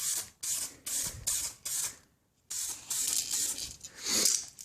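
Aerosol spray paint hissing onto a PS4 controller piece in short, quick bursts, several separate sprays with brief gaps, one longer pause midway, then longer continuous passes, close and clear.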